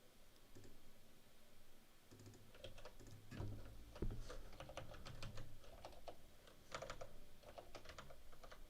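Steady typing on a computer keyboard while learning Russian, with bursts of close, crisp key clicks and an occasional heavier thump, uneven in rhythm, continuing for several seconds without talking.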